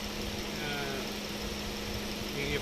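Maruti Swift car engine idling smoothly after a carbon-cleaning treatment: a steady low hum with a faint tonal drone, constant and moderately close, with no talk over it.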